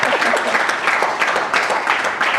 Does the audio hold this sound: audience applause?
yes